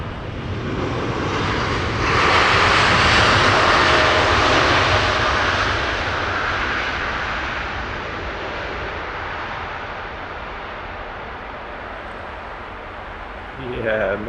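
A jet airliner landing at Heathrow roars with its thrust reversers, loud and close, swelling to a broad rushing peak and then slowly easing off, while people talk over it.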